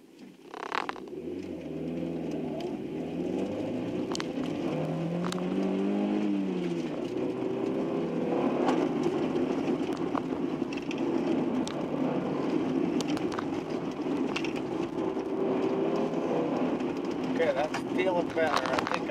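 A 1989 Honda Accord runs an autocross lap, its engine droning and revving steadily at close range throughout, under frequent talk from the driver.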